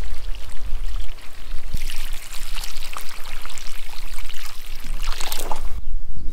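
Water pours steadily from a watering can onto vegetable seedlings in a garden bed, a loud continuous splashing that swells and eases and stops near the end.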